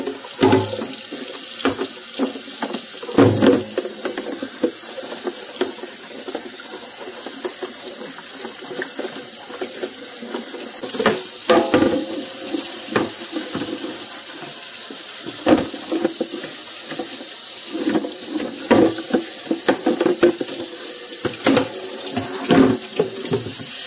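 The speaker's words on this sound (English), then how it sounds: "You should rinse the lid off a couple times a week" Water from a faucet rinses a household garbage can lid, a steady close hiss of running water broken by repeated splashes and spatters as the stream strikes the plastic, continuous for the whole stretch with no talk.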